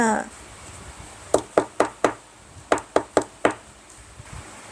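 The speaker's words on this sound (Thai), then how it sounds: "เอียน เปิดประตูให้ครูหน่อย" Knocking on a door in a read-aloud comic scene: two quick bursts of sharp knocks, four raps then another four, fairly close and clear over a quiet background.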